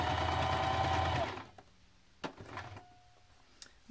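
A sewing machine stitches fabric for a face mask in a quick steady whir, stopping after about a second and a half, followed by faint handling clicks and small rustles.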